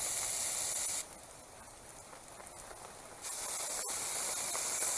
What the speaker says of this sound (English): It doesn't seem like that is an entire can of the Spectracide Wasp and Hornet Killer.